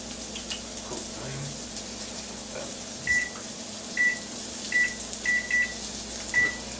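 A microwave oven hums steadily while melting butter for a mustard chicken dish, with a series of short, high, evenly spaced beeps cutting through the low drone.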